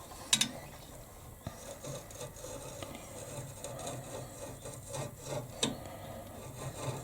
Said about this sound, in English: Let's have a go the spindle gouge and see how we get on with that.